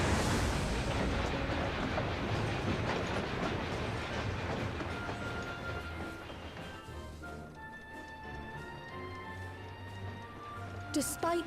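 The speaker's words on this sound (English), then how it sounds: "There's the train back to Tulialal." A train in Final Fantasy XIV Online rumbles past with a loud clickety-clack that gradually fades, leaving ambient hum, while a voice talks over it.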